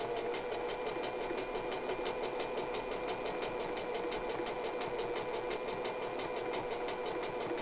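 A sewing machine stitching a face mask runs steadily, its rapid even needle rhythm continuing without a break at moderate, close level.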